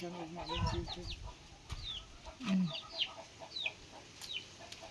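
Chickens cluck and chirp in short scattered calls, with a low throaty cluck midway, moderately near in an outdoor setting.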